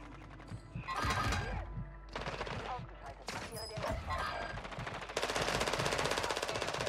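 Gunfire in Warzone 2, including the M13B rifle, with dense bursts of rapid automatic shots and single cracks, loud and close, ending in a sustained stream of fire.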